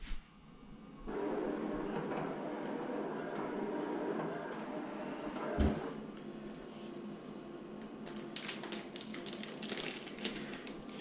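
A Graphtec plotter cuts ceramic window film, giving a steady mechanical whir and rattle with a thump midway and rapid ticking bursts toward the end, with no talking.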